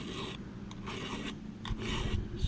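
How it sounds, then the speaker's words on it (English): Hand file rasping on a blunt, worn chainsaw chain, repeated one-directional strokes in an even rhythm, close and fairly quiet with nothing else over it. "sharpening blunt chains. You can see discoloration there and it's worn. Use the right size file, just go one way."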